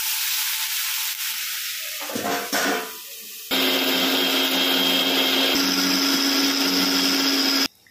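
An electric mixer grinder whirs loudly and steadily as it grinds a masala paste, starting up after a few seconds of softer kitchen noise and running continuously before cutting off abruptly at the end.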